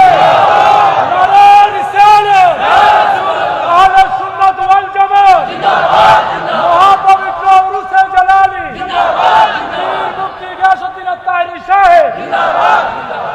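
A large crowd at a Muslim religious gathering roars a takbir response in repeated loud collective shouts, several rising waves of voices with short pauses between them.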